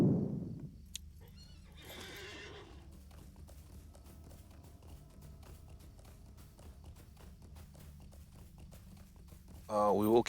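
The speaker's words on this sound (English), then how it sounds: "And then mount up the horsey." A horse whinnies loudly at the start in the video game Lord of the Rings Online, then rhythmic hoof clip-clops continue as the mount travels, with a brief voice speaking in between.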